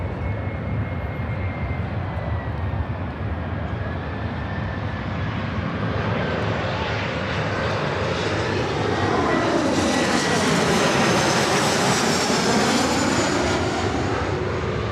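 A Lufthansa Boeing 747 landing at Los Angeles International, a sustained jet roar that grows louder as the four-engine airliner nears, with a sweeping whine and rushing tone at close pass.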